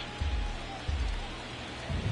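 Steady rain falls at a Los Angeles ballpark during an NLCS baseball game, a continuous broadband hiss with a few low thumps mixed in.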